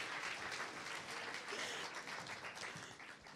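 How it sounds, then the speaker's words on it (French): A seated audience at an evening anniversary gala for a sustainability conference gives steady, dense applause for several seconds, fading slightly toward the end. "On les applaudit très fort."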